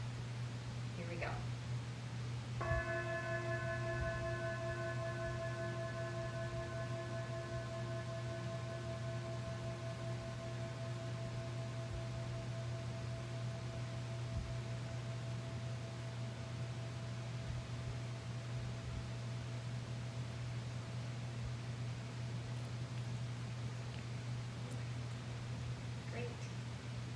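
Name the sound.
mindfulness bell ringing and fading out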